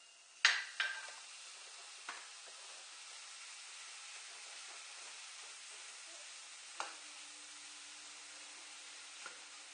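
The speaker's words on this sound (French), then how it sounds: "j'ai mon petit faitout qui chauffe. Il y a de l'huile. On va y mettre les crevettes." Shrimp sizzle in hot oil in a small pot, a soft continuous hiss with a few sharp clinks and scrapes of a utensil against the metal, quiet and close with no talking.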